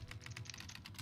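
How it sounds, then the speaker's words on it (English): Rapid keyboard typing from the text-adventure game Stories Untold: a steady run of crisp, close key clicks with a low hum underneath and no talk. "I'll see if this works so I don't have to keep typing it every time."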